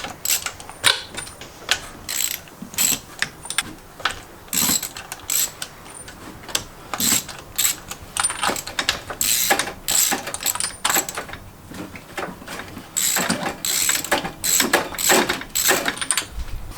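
A ratchet clicks in quick, uneven bursts of close, sharp metallic pawl ticks while spark plugs are loosened and removed from a car engine, with brief pauses between strokes and no talk.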